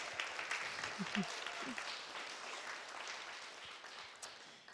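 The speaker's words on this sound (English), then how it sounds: "How about another round of applause for Sage?" A church congregation at a Sunday service applauds in a wide, even wash of clapping, fairly faint and distant, with a few brief voices and cheers rising early on before it gradually tapers.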